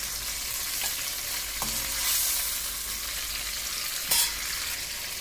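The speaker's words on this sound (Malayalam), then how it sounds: "നമുക്കൊരു ഷാലോ ഫ്രൈ ചെയ്തെടുത്താൽ മതിയാവും" Prawns shallow frying in a pan give a steady, dense sizzle, with a few faint clinks of a utensil, close and continuous throughout.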